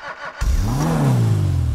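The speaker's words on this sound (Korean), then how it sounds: "제가 엔진 소리 한번 들어볼게요" Maxwell Asbo car engine in Gran Turismo 5 rising into a rev after a short burst of other game sound, the pitch climbing then easing back down as the revs settle; loud and alone.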